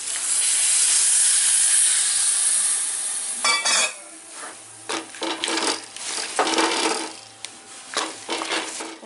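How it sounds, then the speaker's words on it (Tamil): Village-style crab gravy with sea crab bubbles and simmers in a pot, a soft hiss under a run of irregular bursts of popping and sputtering, close and fairly quiet with no talk. "கொஞ்சம் நேரம் நல்லா கொதிக்கணும்."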